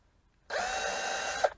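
Power drill whirring steadily for about a second after a short silence, driving a fitting while 16-inch Ouragan alloy wheels are mounted on a Peugeot 206 HDI, ending with a brief louder bump.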